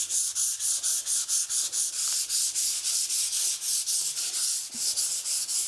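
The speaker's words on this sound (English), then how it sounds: "First up, I'm going to sand some of these patches we had to fill in," Filled patches on a wall are sanded by hand, a rhythmic rasping rub in quick regular strokes, close and loud with no talking.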